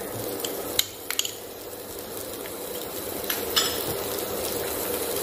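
Garlic, green chili and ginger frying in a pan for veg Manchow soup, a steady soft sizzle throughout with a few sharp clinks of a spoon against the pan near the start and around the middle.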